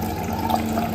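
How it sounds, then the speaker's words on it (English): Water flows steadily from a hydrogen alkaline water machine, a short, even rushing stream with no voices over it. "So we'll let the water flow."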